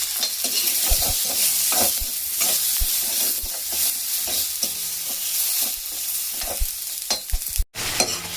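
Tomatoes with ginger, salt and turmeric fry in a pan with a loud, continuous hissing sizzle, punctuated by repeated stirring scrapes and taps that end in a sudden sharp knock.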